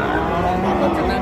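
A piebald bull calf at a crowded cattle market, with a low, steady lowing sound over the dense crowd murmur; it lasts the whole short moment and carries no clear separate calls.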